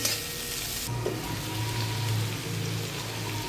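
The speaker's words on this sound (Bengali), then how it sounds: "কাঁচা লঙ্কা দিয়ে দিলাম দুটো, টমেটো কুচি দিয়ে দিলাম, এগুলো ভালো করে একটু ভেজে নেব।" Green chillies and chopped tomatoes fry in a pan with a loud, continuous sizzle and crackle, steady and close, and a few soft stirring sounds.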